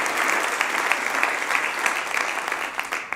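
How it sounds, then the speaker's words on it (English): Steady audience applause for a woman with years of military and civilian government service, many hands clapping in a dense, even wash that holds at a fairly loud level throughout. "Give her a round of applause."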